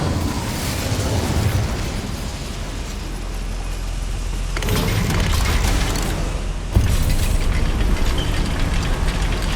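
Casting the Incendio fire spell in the Hogwarts Legacy video game inside a goblin mine unleashes a loud, roaring burst of flame. Two sharper surges break out partway through the dense, steady rush, and no voices are heard.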